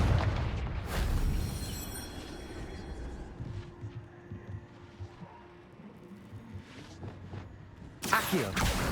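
A Confringo blasting spell detonates in Hogwarts Legacy, a loud burst at the start that decays into a low rumble, then a second sharp blast near the end.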